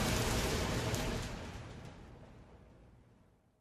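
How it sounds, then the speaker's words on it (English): Steady rain hisses in a broad, even wash that stays strong for about a second and then slowly fades away to near silence, with no voices. "He opens the tavern door and goes out into the rain."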